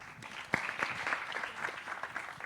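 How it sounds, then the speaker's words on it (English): An audience at a talk claps together, a brief burst of dense, mid-distance applause that stays fairly even throughout. "Let's clap for her."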